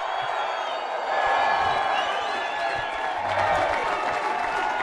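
A crowd at Soldier Field reacting to a Chicago Bears draft pick, with a broad roar of cheering, applause and whoops that swells slightly partway through, heard from a distance as one sustained wash.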